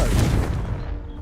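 The Confringo blast spell in Hogwarts Legacy goes off as one loud, close explosive boom that rumbles deep and then decays over about a second, with nothing else heard.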